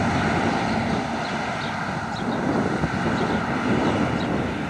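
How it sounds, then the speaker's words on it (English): A New Holland CX5090 combine harvester unloads grain into a Massey Ferguson 6480 tractor and trailer in a field, a steady, broad mechanical drone with some wind buffeting and no talk. "Here we have a New Holland combine being unloaded with a Massey Ferguson tractor."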